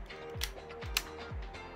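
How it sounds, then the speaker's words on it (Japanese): A Nikon F Photomic film camera with a 50mm f/1.4 lens runs its slow shutter, giving three drawn-out mechanical whirring sweeps with small clicks, close and alone. "シャッター速度すっげえ遅いぞ。"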